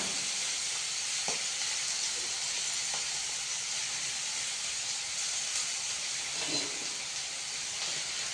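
Onions sizzle in a hot pan with a steady, loud hiss that runs throughout, and a few faint clinks or stirs sound underneath.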